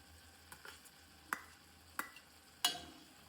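Chopped tomatoes stirred into hot oil for a village-style cabbage and pea curry, a faint low sizzle under a few sharp spoon knocks against the pan, spaced out and growing louder, no speech.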